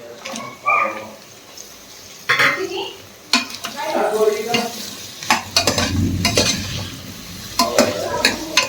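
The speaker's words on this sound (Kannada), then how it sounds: "ಪೊಟ್ಯಾಟೊನ ಸ್ವಲ್ಪ ಸಾಫ್ಟ್ ಆಗೋವರೆಗೂ ಫ್ರೈ ಮಾಡ್ಕೊಳ್ಬೇಕು" Potatoes and cashews fry with ginger in a pan, giving a steady sizzle broken by repeated scraping and clinking of a spoon stirring against the metal.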